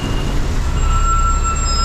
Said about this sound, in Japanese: ようやく75番のバスが今到着しました